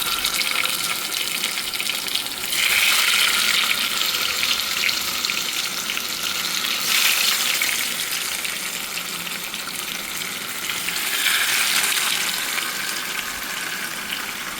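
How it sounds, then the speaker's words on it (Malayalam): Five pearl spot fish (karimeen), coated in a ground spice paste, fry in a pan with a steady loud sizzle and crackle that swells and eases in waves, with no voices over it. "കരിമീനെ നമുക്ക് ഈ ഫ്രൈ പാനകത്തുനിന്ന് വറുത്തെടുക്കാം"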